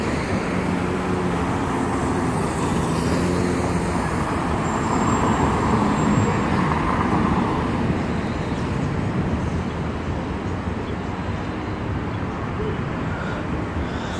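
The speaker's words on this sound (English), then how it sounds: "it's like major bus traffic up there" Steady city traffic rumbles nearby on 145th Street and 6th Avenue in New York, with the low drone of MTA buses passing continuously along the street.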